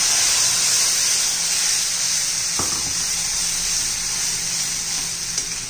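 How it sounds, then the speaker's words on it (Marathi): Spice paste with red chilli powder and coriander powder sautéing in oil for methi masala, a steady loud sizzle that carries on without a break, with one brief scrape of a spoon partway through. "छान असं त्याला परतून घ्यायचंय चांगलं"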